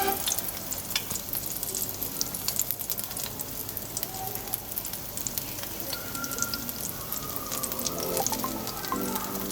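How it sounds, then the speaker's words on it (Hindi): Spinach pakoras fry in hot oil in a kadai for a besan kadhi, giving a dense, even crackle and sizzle throughout with light pops and no talking. "ये ऑयल हमारा गर्म हो चुका है। अब मैं ये पकौड़े इसके अंदर बना रही हूँ"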